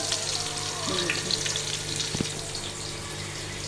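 Steady sizzling of onions frying in a pot, with a soft clink or stir now and then, no talking.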